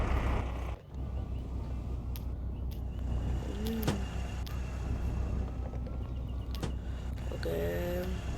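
A car pulls away and drives off, its engine and road rumble steady under wind noise, with a brief mechanical whir near the end; no one speaks.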